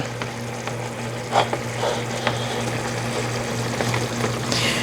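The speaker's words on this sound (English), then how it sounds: "Now it's thickened, and I'm going to add the tofu in," Soft tofu cubes slide into a thickened mapo sauce in a home kitchen pan and are gently stirred, giving a few light wet scrapes and plops over a steady low hum, with no talking.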